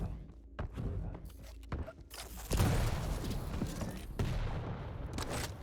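Nailgun fire during a Quake duel, heard as a fast run of thudding shots and impacts mixed with in-game movement and effects, moderately loud, with no voice over it.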